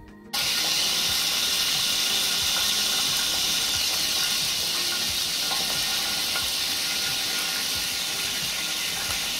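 Water trapped in hot ghee sizzles and hisses steadily as the fat heats while cooking roti, a dense continuous crackling fry sound close up, with no talk.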